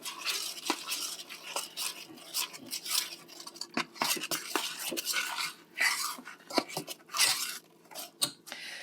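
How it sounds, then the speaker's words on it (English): A spoon stirs the mixture for an old-fashioned Coca-Cola chocolate cake in a bowl, making quiet, irregular scraping and clinking strokes close up, with no talking. "Stir that in."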